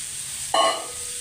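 Carrot pieces drop into a pan where cauliflower is stir-frying in butter, setting off a sudden burst of sizzling that quickly settles into a steady hiss.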